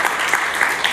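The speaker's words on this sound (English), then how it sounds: "You can clap." Audience applause after a conference talk, a steady full burst of clapping from a seated crowd filling the room at close range, with no voices.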